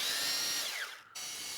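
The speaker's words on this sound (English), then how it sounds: "So now I hooked up the chainsaw accessory." A Worx 40V cordless chainsaw attachment whines at high speed, its pitch dropping as it slows, then cuts out for a moment before the motor hum resumes, all close and fairly loud.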